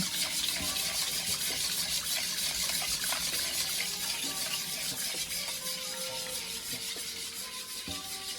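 Runny liquid egg mixture is poured steadily into a bowl of bread pudding mixture, with a continuous wet splashing and sloshing and no talking.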